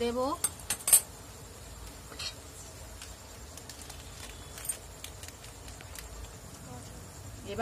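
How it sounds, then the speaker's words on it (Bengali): A spoon scrapes and clinks against a pan while tomato masala is stirred and fried, soft intermittent metallic knocks over a quiet background, with a few sharper clanks early on. "দেখুন এবার ভালো করে কষিয়ে নেব। টমেটোটা সিদ্ধ হয়ে গেছে।"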